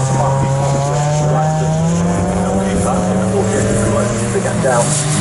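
A race car on the Snetterton circuit during a trackday championship race, its engine droning loud and steady with shifting pitch as it runs past, under continuous commentary.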